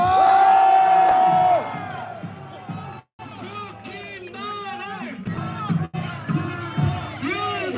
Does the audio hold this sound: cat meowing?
no